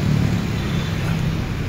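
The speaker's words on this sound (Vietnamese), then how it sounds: "xe máy" A motorbike passes on a road beside rice fields in Vietnam, heard as a close, steady engine and road rumble that holds at an even level throughout.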